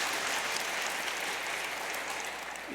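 Audience applause at a panel debate, a dense steady clapping from a full room that holds evenly and tapers slightly at the end.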